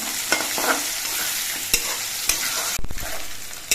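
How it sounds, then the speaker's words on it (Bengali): Potatoes fry in a pan with ginger paste and green chillies, a steady close sizzle broken by a few sharp spatula scrapes and stirring knocks, with no voices. "আর দিয়ে দিচ্ছি আদা বাটা এই আদা বাটা দিয়ে আরো কিছুক্ষণ আলুটা ভেজে নিতে হবে"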